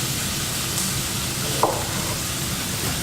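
Pork searing in a pan on a ginger and onion base, a steady broadband sizzle holding level throughout with one brief clink near the middle, no voices.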